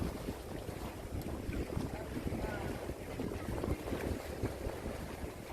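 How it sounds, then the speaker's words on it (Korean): Night sea wind buffets the microphone by the seaside, a steady broadband rush and rumble with faint waves beneath, continuous and fairly loud throughout. "바다 바람 소리가 너무 좋아요"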